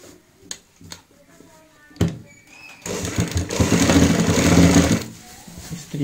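A sewing machine stitches a narrow folded fabric casing, with a few soft handling clicks first, then a steady rapid whirring run of stitching for a couple of seconds before stopping.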